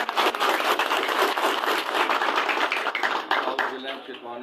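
Applause from an audience at a political gathering welcoming a guest: dense, continuous clapping with cheering and voices mixed in, fairly loud throughout.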